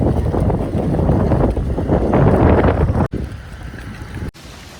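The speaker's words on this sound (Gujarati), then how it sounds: "અહીં કાલે જોરદાર પવન આવ્યો હતો" Strong night wind in storm-like weather, loud gusty roar buffeting the microphone, easing after a couple of abrupt cuts, no voices.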